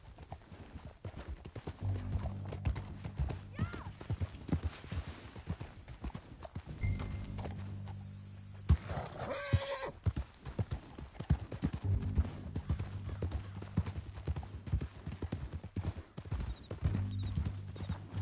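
Horse hooves clip-clop steadily through a Red Dead Redemption 2 canyon ride, fairly quiet and continuous under a low music bed, with a brief whinny midway.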